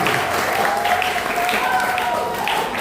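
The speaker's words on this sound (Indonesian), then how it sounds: "Dan kita beri tepuk tangan untuk paslon 1 dan 2 yang telah menjawab bersama" Audience applause at a school student council candidate debate, a sustained wash of clapping heard under a speaker's amplified voice.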